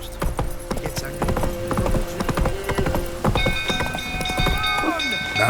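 In The Witcher 3, the horse Roach gallops with brisk, rhythmic clip-clop hoofbeats close by, mixed with game ambience and short tonal sound effects.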